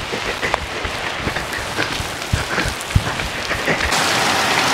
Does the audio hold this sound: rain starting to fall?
yes